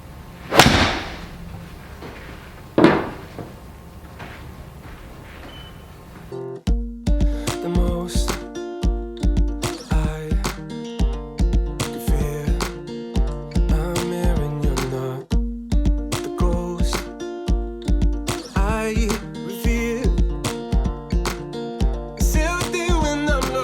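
A TaylorMade P790 iron strikes golf balls: two crisp, sharp impacts a few seconds apart, then rhythmic background music takes over and masks any further hits.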